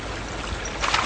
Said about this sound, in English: you see this creek here, which turns into a river a little bit down the stream there a bit further